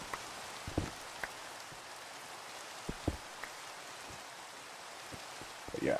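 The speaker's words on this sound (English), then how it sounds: "And, of course, it is raining again." Steady rain falls in Minecraft, a soft hissing wash of drops on surfaces with a few faint, sparse ticks scattered through it, all at low level and with no one speaking.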